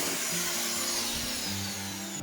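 A large drill, the biggest on hand, bores a hole for a water pump hose through a van during a campervan build, giving a steady whining hum whose pitch shifts partway through and runs continuously without speech.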